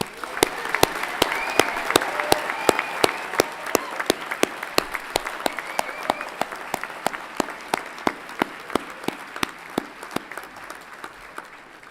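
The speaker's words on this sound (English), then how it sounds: "Please join me in a round of applause in congratulating all these students" Applause from a commencement audience at an engineering college ceremony fills the hall, steady and continuous, with sharper individual claps standing out throughout.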